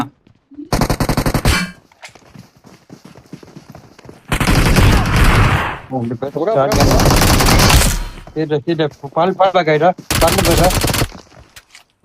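Automatic gunfire from a P90 and other weapons in the mobile game BGMI / PUBG Mobile, loud close bursts of rapid fire separated by short gaps, with brief clanks between.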